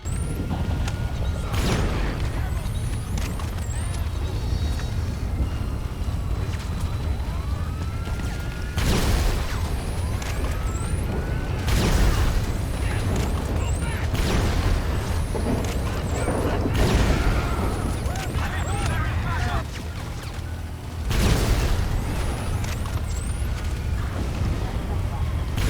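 Halloween railgun fired in GTA Online during an in-game thunderstorm: several loud, booming broadband blasts spaced a few seconds apart, blending with rolling thunder, wind and rain, with speech-like sound in the background.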